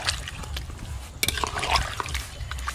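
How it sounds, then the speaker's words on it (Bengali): Hot water is poured into a kadai of mutton curry, a close splashing, gurgling pour running throughout, louder in the middle, with faint kitchen noise underneath. "জল গরম আছে কড়াতে, দিয়ে দেবো।"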